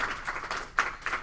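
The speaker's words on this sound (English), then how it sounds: "So give him a clap for that" Audience applause at a university stats club meeting, a short burst of scattered hand clapping from a modest crowd, moderately loud with uneven claps and no talking.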